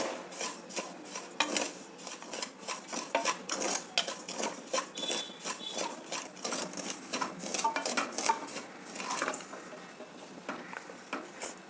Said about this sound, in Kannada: ಮೊದಲಿಗೆ ಅಕ್ಕಿ ತರಿನ ಸ್ವಲ್ಪ ಹುರ್ಕೊಳ್ಬೇಕು